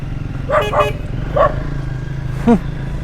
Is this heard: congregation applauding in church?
no